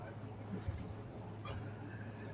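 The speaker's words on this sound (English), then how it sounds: "if nobody talks and you turn your volume all the way up, you literally hear crickets" Crickets chirp faintly outdoors in a steady, high, thin trill over a constant low hum, with no talking.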